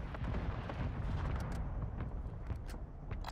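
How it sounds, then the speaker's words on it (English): Mortar strikes rain down in a King of the Castle video game match, a dense continuous rumble of explosions with scattered sharper blasts layered over a heavy low-end roar. "They're getting bombed by somebody else."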